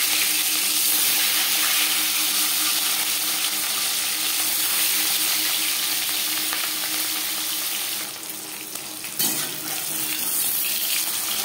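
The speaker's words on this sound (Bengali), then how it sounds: "এবার দিয়ে দেব ম্যারিনেট করে রাখা মাছ।" Marinated katla fish frying in three spoons of hot refined oil, a steady loud broadband sizzle running throughout with a brief dip and a small clatter near the end, no talking.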